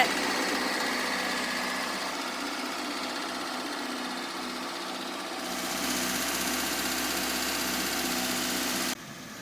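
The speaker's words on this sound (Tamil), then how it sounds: "இன்ஜின் பார்த்தீங்க அப்படின்னா ஸ்மூத்தாக இருக்குதுங்க" A 2006 Maruti Suzuki Swift VXi petrol engine idles smoothly and steadily, a continuous even hum with a light buzzing tone, close and moderately loud, with no talk; it cuts off abruptly near the end.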